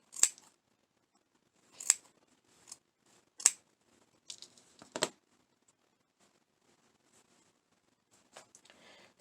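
Scissors snip felt for a small craft gnome: a few sharp, close, separate cuts spaced about a second apart, then softer rustling and a couple of faint trailing snips in a quiet room.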